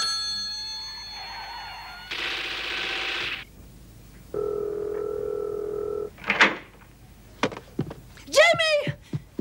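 A telephone rings in a tense 1991 French thriller scene, sounding as a series of distinct electronic tones that change in pitch, separated by short gaps, followed by sharp knocks and thuds, with no talking.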